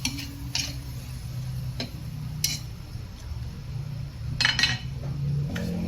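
Spoon stirring beef steak sauce with sugar in a pan on the stove, scattered metallic scrapes and clinks against the pan over a steady simmering hiss.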